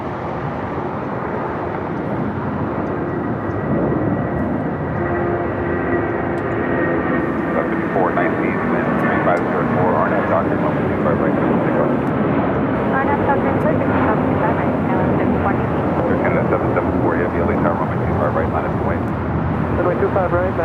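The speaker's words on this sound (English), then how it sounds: "It's the flight heading to Boston in the 757-200." A Boeing 757-200 airliner at Los Angeles LAX airport gives off a continuous loud engine roar that swells steadily over twenty seconds, with faint voices underneath.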